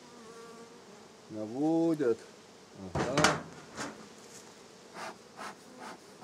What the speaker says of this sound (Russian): Пчелки спокойные.